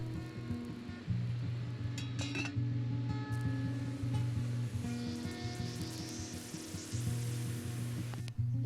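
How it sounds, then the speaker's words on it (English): Faint crackling sizzle of water drops on a hot titanium pot over a camp stove firebox, with a steady low roar of a burner underneath and occasional light metallic clinks, at a campsite in Negwegon State Park. "you could hear the sizzle of a few drops of water on the outside of the pot hit the titanium"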